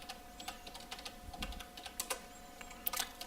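Rapid keystrokes on a computer keyboard while writing webpage code, an irregular run of close, crisp clicks with no talking.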